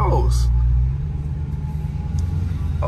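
The exhaust of a 500 hp Dodge Scat Pack roars in a short, loud rev, then falls back to a deep, steady rumble, with a voice talking over it up close.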